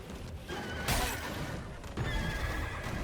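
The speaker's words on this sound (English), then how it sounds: "Here's me struggling with this hammer-headed horse-type creature." A hammer-headed, horse-like creature in the action game Stellar Blade lets out a loud, harsh neigh, joined by clattering hoof-like steps and a crashing hit, all up close amid game effects.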